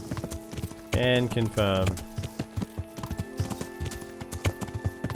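Rhythmic hoofbeats from a horse being ridden in Kingdom Come: Deliverance, steady clip-clop throughout, with someone speaking briefly over them.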